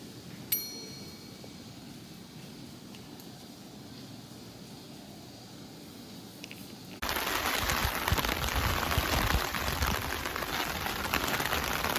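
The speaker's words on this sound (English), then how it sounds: "it just started raining again" Rain falls outdoors near a hostel in South Korea, a soft patter for several seconds that suddenly swells into a loud, dense downpour hiss.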